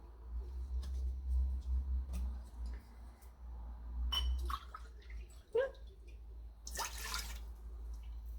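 Water and vinegar poured into a jar for pickling beets with peppers and onions: quiet trickling and dripping, then a short, brighter splashing pour near the end, with light clinks and kitchen handling noise and no talking.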